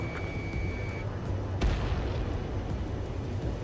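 Anti-aircraft guns fire in the aerial combat game Ace Combat 7, a dull muffled boom with a sharp crack standing out amid a dense, rumbling battle din and a brief steady tone early on.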